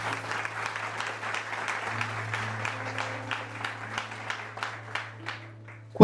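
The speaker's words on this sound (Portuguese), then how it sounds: "Vamos aplaudir poderosamente a palavra de Deus." Church congregation applauding after a Bible reading during a rosary talk, steady crowd clapping for several seconds over a low sustained organ-like tone, with a few sharper claps rising near the end.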